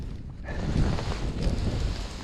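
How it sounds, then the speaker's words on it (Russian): Strong gusty wind buffets an outdoor spot where people are fishing in harsh weather, a loud continuous roar with surging gusts close to the microphone. "Но дует так, что тут не 10, нет, 10 это может постоянно, а порывы до 20, наверное, метров доходят."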